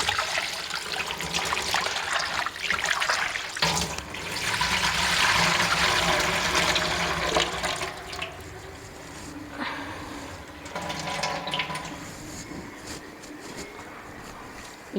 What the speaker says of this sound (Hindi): पानी जो है वो डालें।